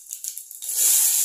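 Mustard seeds and cumin hit hot oil in a pan, and a few soft crackles quickly swell into a close, steady hissing sizzle. No one speaks.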